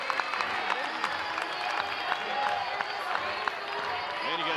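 At a college baseball game, Oklahoma State against Florida, a stadium crowd claps and cheers after a leadoff walk. The applause is steady and sustained, with a broadcaster's voice talking faintly over it.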